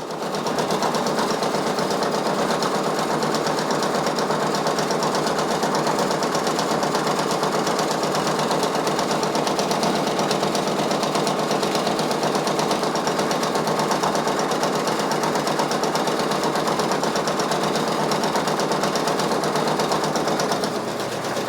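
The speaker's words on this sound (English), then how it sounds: "And we're just gonna keep on sewing, keep on stitching." A Brother Persona PRS 100 embroidery machine stitches steadily, its fast even needle clatter running loud and close without a break throughout, with no voices.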